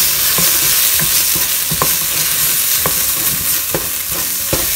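Turmeric and coriander powder frying in oil in a pan while a spoon stirs, with steady loud sizzling broken by rhythmic scrapes of the spoon, close up.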